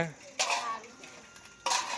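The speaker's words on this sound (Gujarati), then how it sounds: "અને સપના બી બે ઘસી રહેશે વાસણ" Dishes and steel utensils are scrubbed and washed, two sharp clattering bursts of metal against metal with rubbing and scraping in between, close and fairly loud.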